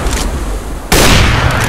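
Pistol fire in the game CS:GO, starting with faint distant pops, then a loud, dense burst of close gunfire that runs steadily to the end.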